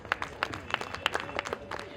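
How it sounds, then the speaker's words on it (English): An audience claps for Mr. Shahanshah Mirza as he is welcomed on stage at the Kolkata Literary Carnival 2025. Scattered, distinct hand claps come from a handful of people at an uneven rhythm, fairly close and moderately loud. "With a huge round of applause, please."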